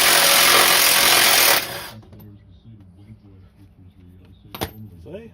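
A Stanley rattle gun works loose the front suspension bolts on a Ford AU XR8, a dense whirring hammer for about a second and a half before it stops, followed by quiet workshop noise and someone speaking.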